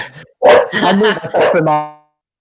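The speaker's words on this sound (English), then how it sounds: "Sorry, my dog's gone a bit mad." A dog barks and yips several times in quick succession, loud and close, ending in a drawn-out whining bark.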